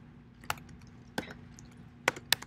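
Typing on a computer keyboard, a handful of isolated crisp key clicks spaced irregularly over a quiet background.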